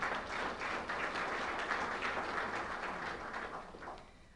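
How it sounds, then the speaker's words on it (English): Audience applause at a corporate breakfast, a steady wash of many hands clapping at moderate level that thins slightly toward the end, with no voices over it. "Let's give them a round of applause."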